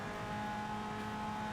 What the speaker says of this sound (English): Absolutely letting this Ford engine scream.